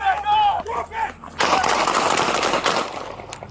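Police gunfire at a suspect, a rapid volley of many loud shots bursting out after shouted commands and ringing on in a dense, sustained barrage.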